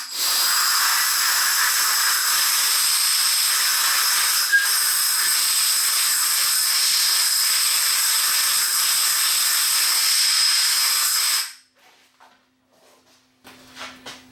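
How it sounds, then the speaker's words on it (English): Compressed air blasts steadily into the bearing well of a Thorens TD 165 turntable, a loud, continuous hiss lasting about eleven seconds before cutting off abruptly, followed by faint clicks and quiet. "Now we'll give it a good shot of air just to make sure that it's"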